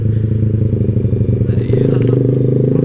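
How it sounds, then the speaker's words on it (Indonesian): A motorcycle with a loud aftermarket exhaust rumbles close by, steady and throbbing. Its pitch and loudness step up briefly partway through. "Apa sih, knalpot aftermarket gitu, berisik sih, emang berisik sih."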